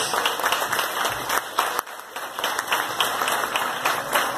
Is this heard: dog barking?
no